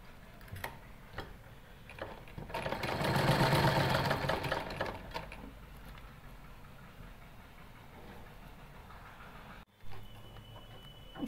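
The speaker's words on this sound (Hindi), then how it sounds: "अब हम इस पर फिटिंग की सिलाई लगाएंगे" A sewing machine stitches a baby sharara dress, a steady close whirring run of a couple of seconds among soft ticking and handling sounds, ending with a brief clunk.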